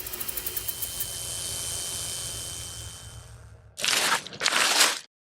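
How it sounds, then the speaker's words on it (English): Footsteps on gravel, two loud crunching steps close by near the end, after a stretch of low rumbling and fading tonal background. "I know the sound of a footstep on gravel"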